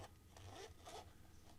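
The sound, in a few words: zipper of an earphone carrying case being opened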